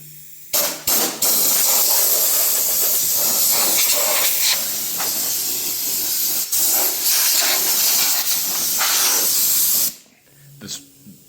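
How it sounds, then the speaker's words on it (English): A workshop air compressor releases a loud, sustained hiss that runs steadily for nearly ten seconds after a few sharp clicks, then cuts off abruptly, leaving quieter background noise. "That's why that dumb air compressor scared me."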